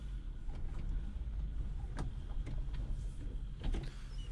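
A Suzuki Samurai with a 5-speed manual gearbox and no power steering being driven, a steady low engine and road drone with a few faint clicks and rattles over it, no talking.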